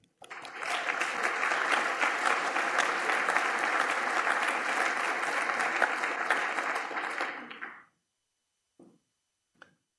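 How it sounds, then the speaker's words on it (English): A room full of people bursts into sustained, dense applause for about seven seconds, then it cuts off abruptly, leaving a few faint scattered sounds. "I want to clap it up for everyone in this room who lives their why relentlessly."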